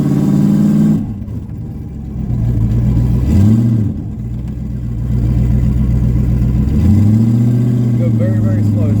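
A Foxbody Ford Mustang on a road, fitted with upgraded rear disc brakes, revs and accelerates close by, its engine note rising, dropping between gear changes and building again, with a voice talking over it.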